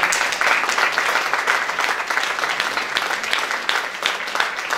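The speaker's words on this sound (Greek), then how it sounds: "Γι' αυτό θέλω ένα πολύ ζεστό χειροκρότημα για τον ίδιο." A crowd gives a warm, sustained round of applause at an evening event in a garden café in Chania, with dense, even clapping at full volume throughout.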